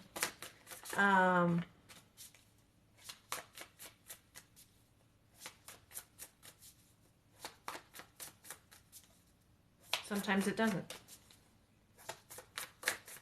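Riffle shuffling of a deck of cards, with two loud, long riffling bursts plus many short card snaps and taps between them, heard close up while a person talks intermittently.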